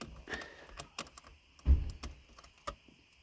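Car wiring connectors, color coded, snapping into place during work on an old car saved from scrap: a few sharp, close plastic clicks scattered among soft handling noises, with one firmer snap near the middle.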